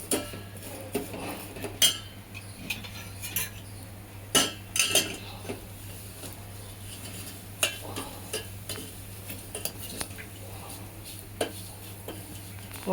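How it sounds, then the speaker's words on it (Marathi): Vermicelli roasting in ghee in a pan, a spoon scraping and clinking against the metal in irregular strokes over a faint low hum, close and fairly quiet. "शेवया पण भाजून घेऊया आपण।"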